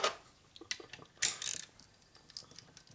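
Bolts being run down by hand on a 1997 Harley-Davidson Evolution 80ci engine case during a lower-end rebuild, giving a few short metallic ratcheting clicks and clacks spaced irregularly, close and fairly quiet.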